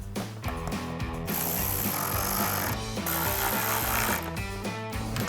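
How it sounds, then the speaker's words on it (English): A hand ratchet with a 7mm socket and extension drives screws while reinstalling LED headlights on a 2016-2018 Camaro, making quick, rhythmic clicking bursts that pause and resume. "Grab our ratchet, 7mm socket and extension."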